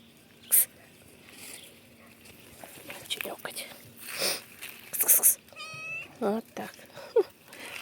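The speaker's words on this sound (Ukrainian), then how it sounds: "Але нас ще дивіться, нова кицька." Stray cat meowing outdoors in a village garden, several short meows and cries scattered over the stretch, near and fairly clear, with soft speech and whispering around them.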